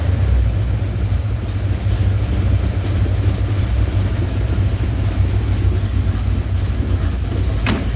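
An engine fitted with its standard exhaust system runs steadily from a cold start, giving a loud, constant low rumble close by without pauses.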